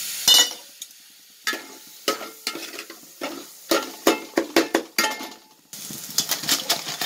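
Tomatoes are stirred and fried in a pan for crab gravy, with a faint sizzle under a run of loud, irregular scrapes and clinks of a ladle against the pot, no talking.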